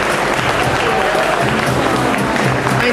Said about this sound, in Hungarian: Nagy tapsot.